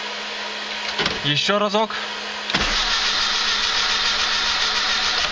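A car running on LPG gas in winter cranks its starter without catching, a repeated whirring attempt followed by a second steady cranking run, with someone speaking briefly between attempts.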